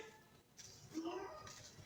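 A pregnant mother cat, trapped and being rescued, gives a single short meow in the middle of faint background noise and movement.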